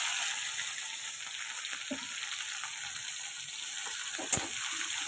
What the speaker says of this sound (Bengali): টমেটোটা একটু নরম করে ভাজা করে নেব।